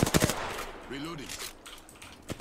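Automatic gunfire bursts in a battle royale duos match, loud and close in the opening second, then a few fainter shots later, with whispered team talk underneath.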